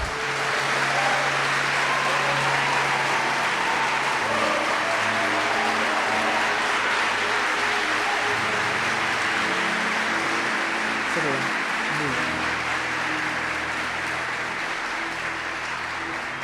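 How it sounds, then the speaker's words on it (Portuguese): A church congregation at a youth conference applauding in worship, sustained clapping spread over a long stretch with a voice speaking over it and faint musical tones underneath. "Aplauda o Senhor Jesus."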